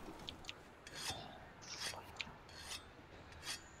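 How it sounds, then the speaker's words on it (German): Weapon being sharpened with a whetstone in the video game Monster Hunter World: quiet, gritty rasping strokes in an uneven rhythm, a handful of soft scrapes close by with no talking. "Und erstmal schleifen."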